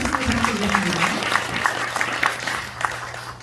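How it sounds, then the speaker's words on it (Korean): An audience at the first Dongguk Yadanbeopseok forum breaks into applause, with distinct claps forming a full round that gradually thins and fades, and a voice speaks briefly at the start. "보내시고 박수 부탁드리겠습니다"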